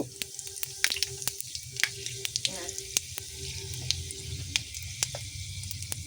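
Whole spices crackle in hot oil in a wok to start a fish-head curry, giving a low steady sizzle broken by frequent sharp pops and spits, close and fairly quiet.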